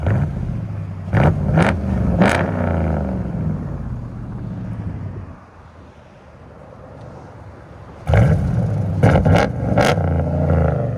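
A RAM 1500 5.7L HEMI V8 with Flowmaster Outlaw true dual exhaust revs hard in loud repeated bursts, settles to a lower idle rumble, then blips sharply again several times.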